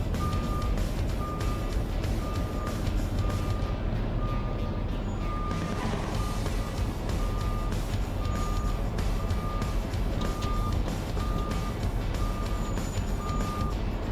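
A Peterbilt garbage truck backs up with a steady, evenly spaced reversing beep sounding over the loud, constant rumble of its engine, and there is no talking.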